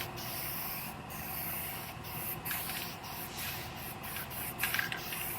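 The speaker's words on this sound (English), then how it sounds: "Now I'm gonna put one more coat of guide coat over all the primed area" Guide coat is sprayed over primed areas of a car body in steady hissing bursts with short gaps between passes, close by and moderately quiet.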